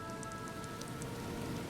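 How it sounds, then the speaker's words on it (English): Steady, dense rainfall pattering on surfaces in the Ninja Gaiden II video game, an even wash of drops continuing throughout with no talking. "And now the sky rains blood."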